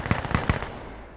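AK rifle with a drum magazine firing in Insurgency Sandstorm, three sharp close shots in quick succession followed by a fading tail.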